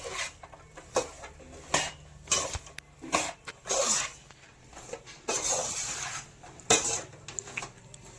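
Jaggery syrup for peanut chikki stirred hard in a pan: repeated sharp metallic scrapes and clinks of a spoon against the pan in uneven bursts, close and clear, with quiet gaps between.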